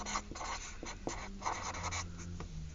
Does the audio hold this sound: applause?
no